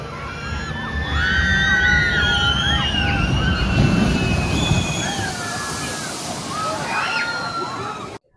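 Water splashes and sloshes continuously at the Journey to Atlantis ride splash zone at SeaWorld, where campers get drenched. A dense, rushing wash runs for several seconds, with faint shrieks and voices mixed in before it fades at the end.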